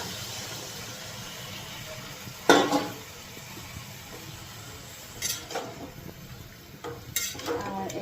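Puti fish pieces frying in spiced oil with tomato, green chilli and mustard, a low steady sizzle with a few louder clattering stirs from a spatula against the pan, no voices.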